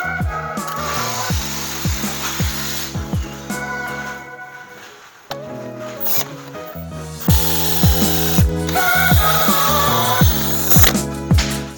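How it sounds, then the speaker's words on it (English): A power drill bores into wood for a lag bolt, running in repeated whining bursts that speed up and slow down, with short pauses and scraping between the runs. "I got a piece of tape on here letting me know how far I need to drill in, because that's roughly the length of my lag bolt"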